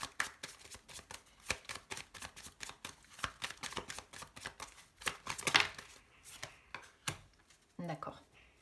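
Tarot cards being reshuffled by hand, a run of quick riffling and slapping bursts of varied loudness, close and fairly soft, with no talk over them.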